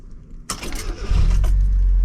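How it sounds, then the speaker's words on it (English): A stock Mazda Miata NA6 starts up close by: a short jingle and click, a brief cranking whir, then the engine catches and settles into a loud, steady low idle. "We are gonna go ahead and start the vehicle right now."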